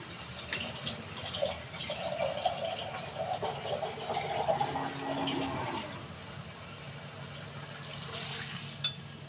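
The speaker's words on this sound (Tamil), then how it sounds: "இப்போ நான் ஒரு சொம்பு தண்ணி எடுத்து ஊற்றி வேக வச்சிடுறேன்." Water from a pot is poured into a clay-pot kara kuzhambu curry to cook, a soft continuous splashing and filling for several seconds, then fading to quiet.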